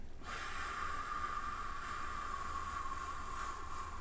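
A long, steady exhale of breath from someone congested and phlegmy, heard close to the microphone as a continuous airy rush lasting several seconds, with no talking.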